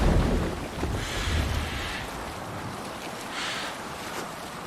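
A boat under sail in Assassin's Creed Valhalla, with a steady rush of wind and water washing along the hull, strongest at the start and easing into a softer surge, with no voices.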